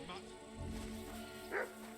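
Dog barking in the medieval video game Kingdom Come Deliverance II, a couple of short barks mixed among in-game sounds and talking voices.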